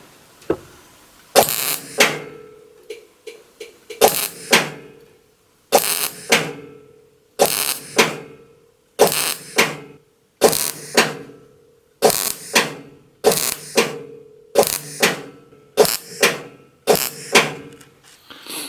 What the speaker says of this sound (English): So I'm just going to weld this up.